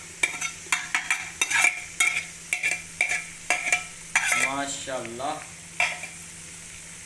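Ginger and garlic frying in oil for chicken karela, stirred with a spoon that gives a run of rhythmic scraping taps over a steady sizzle. A voice speaks briefly near the end.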